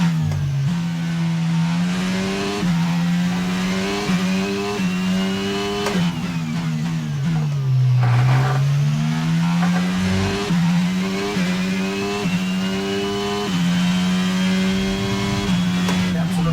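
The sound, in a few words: Formula 1 race car engine in F1 22 video game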